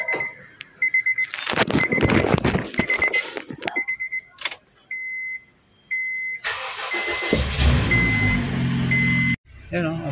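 A Honda Civic 1.8 that starts hard and shows a check-engine light cranks several times with choppy bursts and chiming warning beeps, then catches and runs at a steady idle, close and loud.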